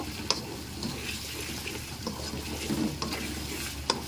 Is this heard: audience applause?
no